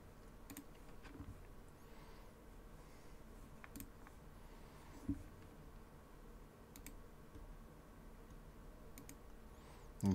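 A computer mouse clicking on links, with sparse sharp clicks scattered through a quiet stretch and a faint background hum, close and without talk.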